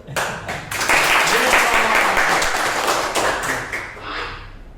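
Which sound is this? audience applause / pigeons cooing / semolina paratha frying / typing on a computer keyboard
audience applause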